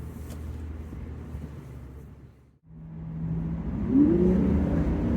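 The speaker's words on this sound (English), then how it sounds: "We need to hear the V12 sing" Salvaged Aston Martin V12 running on its first test drive, a low steady engine drone that dips briefly, then swells into a rising rev as the car accelerates.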